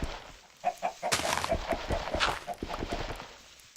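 Several Minecraft chickens clucking in a busy, overlapping chatter with scattered clip-clop-like taps, steady and moderately loud.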